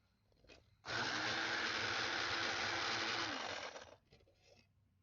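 A blender running with chunks still inside, a loud steady whirring roar for about three seconds, close by, then cutting off into quiet.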